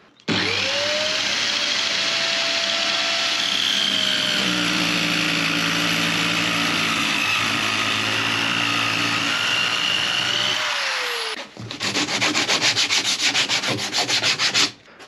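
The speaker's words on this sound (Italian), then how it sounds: "adesso gli diamo un colpo di sega" Two clamped wooden drawer fronts are being cut with a saw: a loud, sustained cutting drone runs for about eleven seconds, then stops and gives way to a few seconds of rapid, rhythmic rasping strokes.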